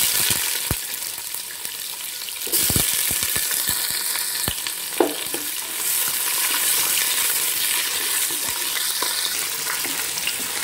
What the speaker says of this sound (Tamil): இப்போது பூப்பட்டை, கிராம்பு, ஏலக்காய் எல்லாமே வந்து நல்லா பொரிஞ்சிச்சு. இப்போ இது கூட வந்து வெங்காயத்தையும் போட்டுடலாம்.